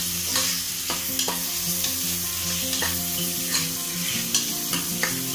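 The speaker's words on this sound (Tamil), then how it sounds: "தக்காளியை நல்லா மிக்ஸ் பண்ணிக்கோங்க" Tomato stirred with fried onions in a hot pan for pudina pulao, a steady sizzle under repeated scraping strokes of a spoon against the pan, close and clear with no talking.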